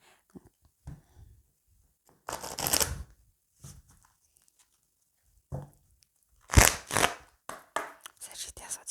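Tarot deck being cut and shuffled in a few short, crisp riffling bursts separated by quiet pauses, close and fairly soft, with faint murmured speech in between.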